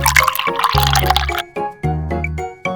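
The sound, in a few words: water poured in while cooking stuffed squid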